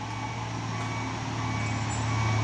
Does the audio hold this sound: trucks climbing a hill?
yes